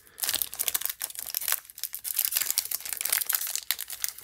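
Close, crisp crinkling and tearing of a foil Pokémon card pack wrapper in quick irregular bursts, bright and rustly, with no talking.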